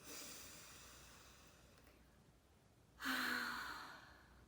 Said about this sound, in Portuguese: Novamente, inspira pelo nariz.